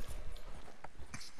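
Horse hooves clip-clop in the video game Red Dead Online, a quick run of soft, uneven thuds over a noisy game backdrop, brief and moderately faint.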